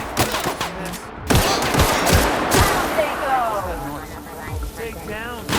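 Gunfire in The Outer Worlds video game: a burst of sharp shots and rattling fire with explosions and reverberating noise, close and loud, while a voice speaks over the combat.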